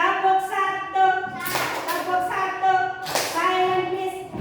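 A primary school class performs a rhythmic clapping chant, with sharp group claps landing in a regular beat between sung or chanted children's voices close by in the classroom.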